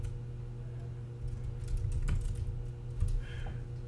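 Fast keystrokes on a computer keyboard while entering title text in Adobe Premiere Pro, light irregular clicks over a steady low hum, close and fairly quiet with no talk.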